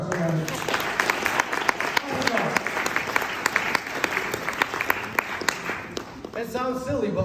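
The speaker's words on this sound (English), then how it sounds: "Round of applause for this person." An audience of high school seniors applauds in a school assembly, a dense, steady wash of clapping close to the microphone that runs several seconds, with a few voices calling out near the end.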